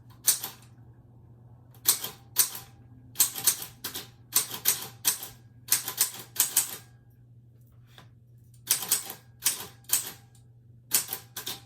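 Clacking keystrokes on a typewriter come in quick clustered bursts with short pauses, each strike sharp and close over a steady low hum, with no talking.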